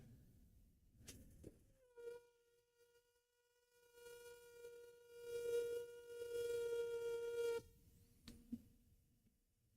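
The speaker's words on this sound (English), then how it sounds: "if you hold your finger over the tip of the airbrush, give it a little bit of air, You see it start bubbling" An airbrush with a finger held over its tip, bubbling back as air is fed: a steady buzzing, farty tone swells for several seconds, then cuts off, with faint handling noise around it.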